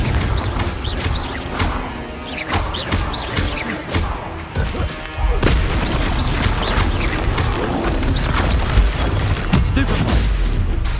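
Confringo explosion spells blast in Hogwarts Legacy amid a hectic magic duel, a dense run of crashes, booms and thwacks that rattle on continuously and loudly.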